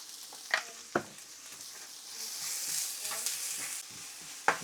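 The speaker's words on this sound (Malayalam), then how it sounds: "ലേശം ഉപ്പ് ചേർത്ത് കൊടുക്കാം സവോള ഒന്ന് പെട്ടെന്ന് വാടി വരാനായിട്ട്" Sliced onions sautéing with a little salt in a pan for Kerala-style prawn biryani, with a steady soft sizzle broken by a few sharp scrapes and clinks of a stirring spoon, close and without talk.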